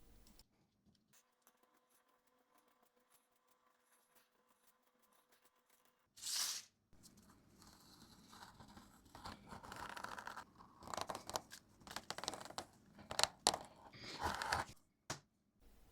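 Thick 2.7mm (7-ounce) veg tan leather being cut for a bag, heard as quiet, irregular crunching and snipping strokes that start after a near-silent opening and continue in short bursts, with no talking.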